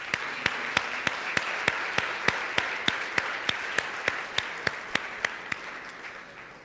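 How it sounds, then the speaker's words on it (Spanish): Church congregation applauding in welcome at a Sunday service: a steady wash of many hands clapping, with a regular sharp beat of rhythmic claps running throughout and fading slightly at the end. "vamos a darles un aplauso de bienvenida"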